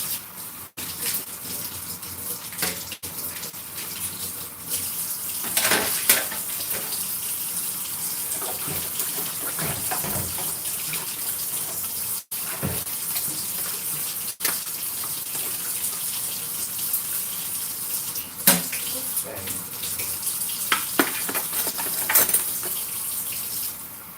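Hot water runs steadily from a tap for the full length, a continuous close rushing stream with brief splashy changes as hands move under it.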